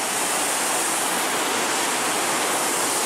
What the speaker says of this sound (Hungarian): Itt megy le a víz, itt zubog lefele.